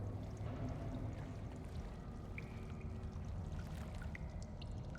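Water sloshing and trickling in the Silent Hill 2 Remake, heard in a dark, flooded prison area: a steady, low wash of moving water with faint high squeaks occasionally poking through, no talking.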